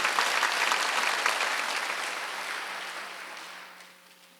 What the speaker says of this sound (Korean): 박수 하나 더 해서